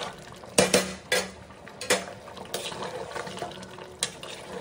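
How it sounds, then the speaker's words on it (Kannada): Spoonfuls of melted homemade butter ghee added to rice boiling in a pot on a kitchen stove, with sharp metal spoon clinks against the vessel, a few distinct taps spaced over several seconds. "ಈಗ ನಾನು ಸ್ವಲ್ಪ ಒಂದು ಎರಡು ಸ್ಪೂನಷ್ಟು ಬೆಣ್ಣೆಕಾಯಿಸಿದ ತುಪ್ಪನ ಹಾಕ್ತಾ ಇದ್ದೀನಿ"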